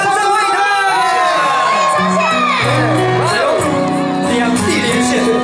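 A New Year's Eve countdown concert crowd at the Kaohsiung Penglai stage cheers and shouts for a singer, a loud continuous roar of whoops and screams with an amplified voice on top.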